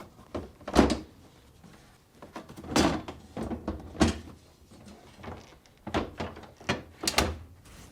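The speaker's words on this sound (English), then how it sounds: "Now, tilt the front down and position it on the slides." A Whirlpool refrigerator's freezer drawer is tilted front-down and set onto its slides, giving a series of hollow plastic clunks and knocks at an irregular pace, close by with no talking.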